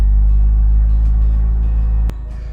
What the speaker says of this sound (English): we're going to try and drive the smart car up, down and round through the vineyard